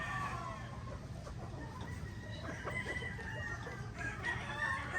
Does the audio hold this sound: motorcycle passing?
no